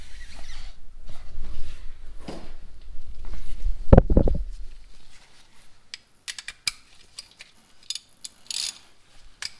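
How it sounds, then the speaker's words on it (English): Wrench ratcheting on a sway bar link nut during a repair on a 2011 Chevy Equinox, heard as irregular clicks and short ratchet bursts with a few metallic knocks, close up and without speech. "Get a wrench on the back."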